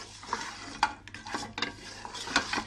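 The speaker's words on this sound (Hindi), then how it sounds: "5 मिनट हो गए हैं हमें इसको भूनते हुए।" Beef nehari frying in a pot with garlic and ginger, a spoon scraping and stirring in repeated bursts over a steady soft sizzle, close and fairly loud, with no talking.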